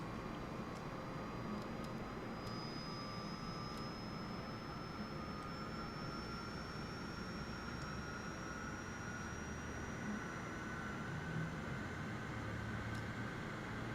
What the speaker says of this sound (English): Now you can see all the 4 engines are now running.